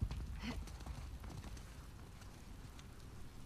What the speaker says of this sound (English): I hear her footsteps.